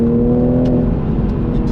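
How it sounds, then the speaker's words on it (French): A Toyota GR Supra 3.0 turbo engine's exhaust, a steady, loud, low droning rumble held close and alone for under two seconds. "On a un petit son à l'échappement sympa"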